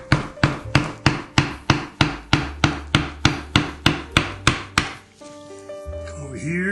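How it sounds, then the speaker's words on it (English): A big chisel is struck repeatedly into the wood of an instrument case, about fifteen evenly spaced sharp knocks at close range, followed by a short, softer scraping pass. "I can use this big old chisel here and start getting that wood out that I don't need"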